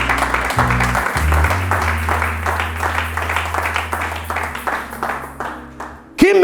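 Congregation applauding in a church service, a dense sustained wash of clapping with organ or keyboard tones held underneath, tapering off toward the end.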